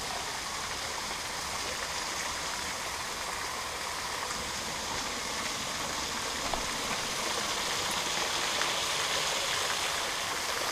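A foamy stream flows steadily, a dense, continuous rushing wash of water close by with no pauses or voices.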